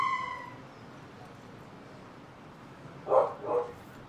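A dog gives two short, sharp barks in quick succession near the end, moderately loud against a quiet background after a faint tone fades out at the start.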